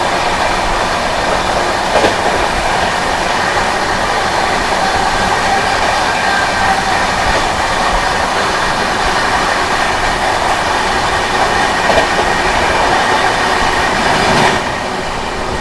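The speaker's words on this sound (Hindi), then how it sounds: "चलिए दोस्तों, अपनी महाराष्ट्र संपर्क क्रांति ओवरटेक करने जा रही है विरार सूरत इंटरसिटी एक्सप्रेस को।" Maharashtra Sampark Kranti Express running at about 130 km/h while overtaking the Virar Surat Intercity Express: a loud, steady rumble of wheels and carriages with faint clickety-clack throughout, alone without talk.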